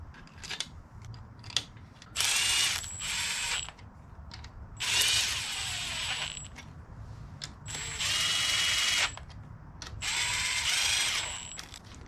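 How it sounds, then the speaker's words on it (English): A ratchet torque wrench clicks in fast bursts, four sets with pauses between them, while tightening ARP-lubed connecting rod bolts on H-beam rods in a B18 engine build. "I'm going to torque this down to 22 first"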